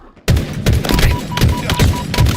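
Gameplay gunfire in Halo Infinite erupts after a brief quiet moment into a sustained, loud barrage of rapid shots and booming impacts that continue without pause.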